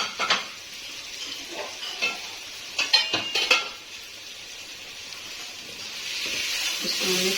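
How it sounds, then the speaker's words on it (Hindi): A spoon scrapes and clinks against a pan as potato and eggplant sabzi with spices is stirred, bursts of metallic clatter over a soft steady sizzle, close and moderately loud. "इसको मिक्स करके अच्छे से,"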